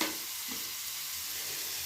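Frying food with chili sauce sizzles steadily in a pan while being stirred, a close, continuous hiss with no voices.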